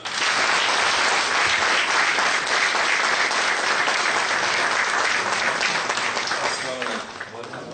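An audience breaks into loud, sustained applause at a police lecture on threat assessment, with steady dense clapping throughout that thins slightly toward the end.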